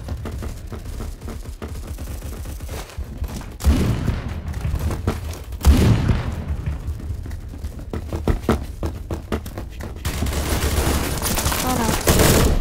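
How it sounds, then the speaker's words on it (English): Gunfire in Phantom Forces with a loud BFG sniper rifle shot among it, rapid volleys of shots throughout with a couple of heavier booming reports standing out, close and loud, with people talking underneath. "I'm pretty sure I just heard a BFG. That really loud noise."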